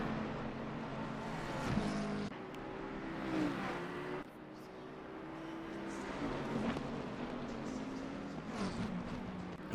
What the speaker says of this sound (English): And both of those cars sound just ultimate.